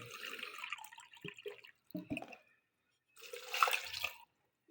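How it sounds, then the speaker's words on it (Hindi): Water poured from a cup into a juicer jug holding aloe vera gel comes in short splashing bursts with brief gaps, close and fairly quiet in a kitchen. "इसी प्याली की मदद से हम पानी ऐड कर देते हैं।"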